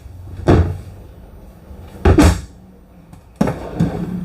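A storage drawer in a Keystone Outback 328RL travel trailer opens and closes, giving three sharp wooden knocks and slides spaced a second or more apart, close and fairly loud in a quiet interior.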